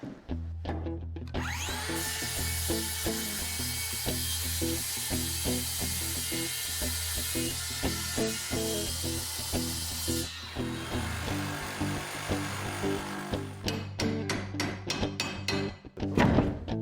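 A power saw cuts out a section of wooden subfloor so a new slate piece can be slotted in, a steady loud whine running about ten seconds, then easing off into a few sharp knocks and thunks near the end.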